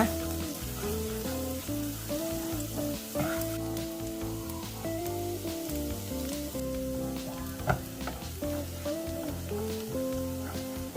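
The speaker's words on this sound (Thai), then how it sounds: "ต่อมาก็นำกระเทียมสับนะคะ ประมาณ 2-3 ช้อนโต๊ะ ผัดกับเนยหอมๆโดยใช้ไฟอ่อนที่สุดเลยนะคะ" About two to three tablespoons of minced garlic fry in butter over the lowest heat, giving a continuous, even sizzle like light rain. Occasional soft stirring taps sound close by.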